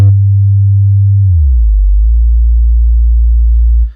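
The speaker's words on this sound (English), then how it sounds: "just a plugin that is generating a sine wave right now it's at just under 50 hertz" A loud, pure low hum from a plugin-generated sine wave just under 50 hertz holds steady, drops slightly lower partway through, then cuts off at the end.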